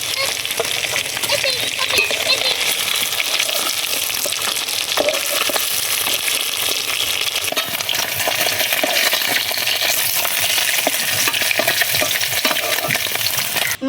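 Catla fish pieces frying in oil, a loud continuous sizzle and crackle close up with faint movement over the spitting oil.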